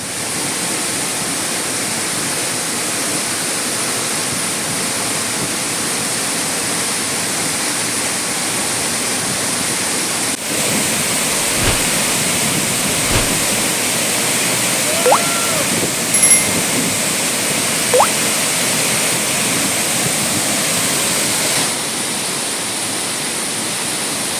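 Steady roar of Anayadikuthu waterfall near Thodupuzha, a dense broadband rush of falling water filling the whole clip, with a few brief faint knocks and chirps over it; no talk.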